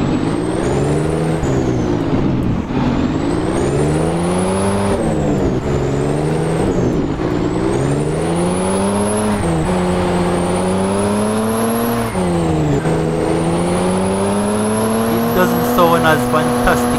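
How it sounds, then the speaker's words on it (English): A Kenworth Phantom truck in American Truck Simulator drives with a loud, steady engine drone. Its pitch climbs and drops through repeated gear shifts, with a brief air-brake hiss near the end. "let's just take this Phantom, Kenworth Phantom, for a spin"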